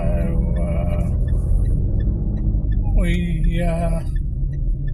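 A four-wheel drive car drives with a low, steady engine and road rumble throughout, someone talking over it inside the cabin.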